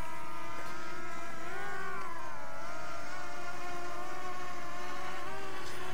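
The motors of a Bwine F7 Mini drone whine loudly and continuously at close range as it takes off outdoors in a breeze, with the pitch wavering as the motors speed up.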